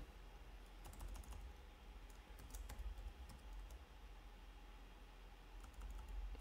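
Keys clatter on a computer keyboard in quick, uneven bursts with short pauses, quiet and close against a faint background hum.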